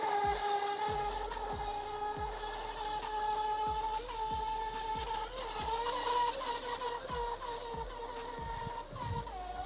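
A Feilun FT011 4S brushless racing RC boat speeds across the water with a loud, steady high-pitched motor whine and a rhythmic slapping thump as the hull bounces over waves, continuous throughout and close by.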